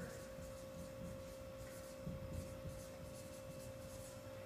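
A marker or chalk scratches and rubs across a board in short continuous strokes, faint and close, with no voices over it.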